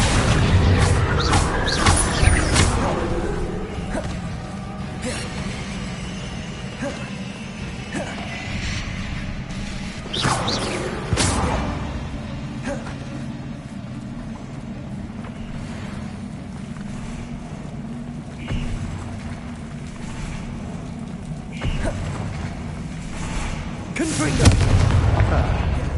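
Confringo and Bombarda spell blasts in Hogwarts Legacy go off as sharp booming impacts, with loud bursts near the start, around the middle and at the end, separated by lower rumbling combat noise.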